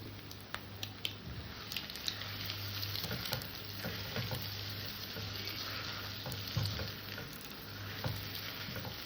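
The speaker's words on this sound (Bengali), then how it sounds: "এভাবে নেড়ে চেড়ে গ্যাসটা কিন্তু একদম ছোট করে দিয়েছি" Potato and egg with plenty of dried red chili stir-frying in a pan on a very low flame, a continuous close crackling sizzle broken by scraping stirs and small wet squishes, no speech.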